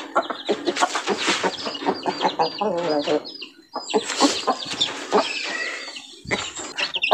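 Chickens of imported breeds clucking in a backyard home coop, close by and fairly loud, with overlapping calls filling the clip; a person talks between and over the bird sounds.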